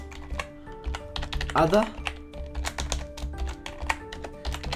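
Code is typed on a computer keyboard in a rapid run of close key clicks, with someone talking briefly over the typing partway through.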